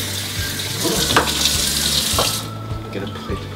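Water pours and splashes steadily as it is tipped out of a Japanese nabe hot pot, a broad rushing stream that stops abruptly partway, leaving quieter low kitchen hum.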